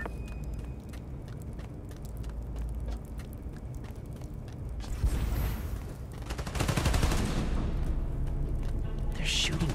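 Gunfire in the Spider-Man: Miles Morales PS5 game, a dense rattle of rapid shots that swells into heavier bursts partway through, loud and steady over a continuous game background with no talking.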